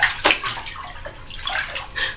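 Water in a bathtub sloshes and splashes in soft, uneven bursts, with a stronger splash near the start and scattered lighter movements after, close and fairly quiet with no talking.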